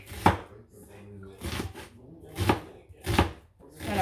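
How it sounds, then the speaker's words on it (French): An onion is chopped on a board with a knife, four or five distinct, fairly close thuds at an uneven pace, with quiet gaps between strokes. "je vais couper encore un oignon"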